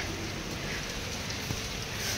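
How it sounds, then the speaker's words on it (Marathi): Steady rain pouring down outdoors, a dense even hiss of drops close by with no break and no voices. "छत्री न घेता वरती आले पावसात भिजण्यासाठी"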